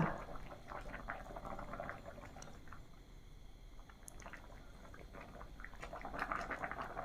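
Catfish curry with pickled bamboo shoots simmers in a covered pot, giving a faint, continuous bubbling and gurgling hiss with no voices.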